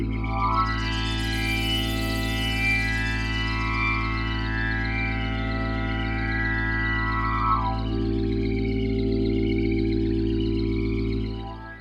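The Goblins patch on a Yamaha Montage M8X synthesizer plays a sustained, droning, harmonically rich tone with a steady low bass and a sweeping, evolving upper layer that rises and falls before cutting off.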